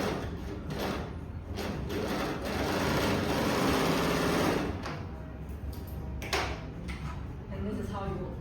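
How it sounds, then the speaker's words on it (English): An overlock sewing machine stitches along a curved fabric edge, running in a steady mechanical whir that swells and holds for a few seconds, with short bursts and clunks around it and a voice nearby. "And this is how you overlock a curve"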